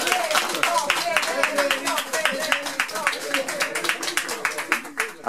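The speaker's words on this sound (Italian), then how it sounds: "Un applauso per Federico" A small group claps steadily and briskly in welcome for Federico, quick dense hand-claps close by that carry on for several seconds with a little voice murmuring underneath.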